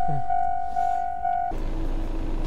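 A train rumbles past in Sapporo, Japan, in winter, with a steady low roar and a sustained high tone that abruptly cuts off, leaving broadband rolling noise.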